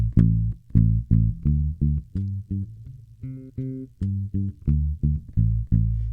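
Palm-muted dead notes on a bass guitar, plucked with the thumb, come as a steady run of short, thudding, percussive plucks with clipped decay, loud and alone.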